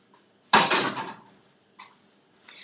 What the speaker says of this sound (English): I'm just beating my eggs